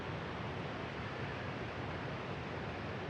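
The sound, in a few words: active waterfall in a forest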